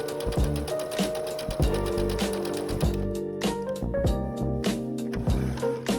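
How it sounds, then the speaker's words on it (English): Sewing machine running a top stitch along the folded edge of a fabric bookmark piece, a steady close mechanical whir with rhythmic needle clatter, continuous with no talk. "Sew a top stitch along the folded edge using a 1/8 inch seam allowance."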